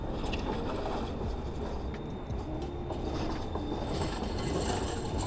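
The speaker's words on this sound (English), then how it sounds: "Maybe we'll get the metro going." A metro train rolls past on a city street, producing a steady, loud rumble of wheels and carriages with faint clattering and metallic squeals, continuous throughout with no voices.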